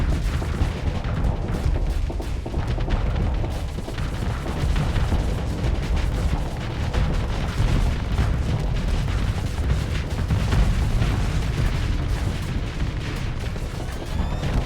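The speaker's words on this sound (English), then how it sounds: "you can see the Invictus is going for a barrage" An Invictus warship in the space strategy game Starsector fires a barrage, a dense, continuous roll of booming cannon and explosion sounds layered over one another for the whole stretch, loud and unbroken.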